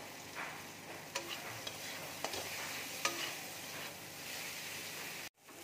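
Ground turmeric, salt and Kashmiri chili powder frying in a pan as a snack is cooked, giving a steady soft sizzle with occasional clicks of a spoon stirring, close by and with no talking, ending in a brief cut.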